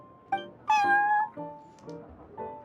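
A cat meows in the Genshin Impact video game at the Cat's Tail tavern, giving three or four clear, close mews of varied length, the second one longest and loudest, with no talking over them.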